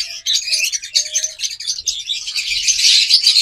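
A pair of lovebirds, the female in breeding condition, gives rapid, shrill chirps and squawks close by, calling almost without pause in overlapping bursts.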